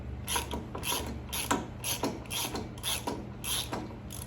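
A quarter-inch ratchet with a 12-point socket loosens the brake pad pins on the front brake caliper of a 2001 Harley Electra Glide, giving a close, quiet run of quick metallic clicks in short bursts.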